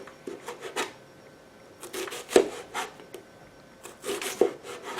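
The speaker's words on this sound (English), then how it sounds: "So let me just go ahead and cut the onion very thinly sliced" A knife thinly slices an onion on a board in a few short bursts of close crisp chopping and rubbing, with quiet gaps between.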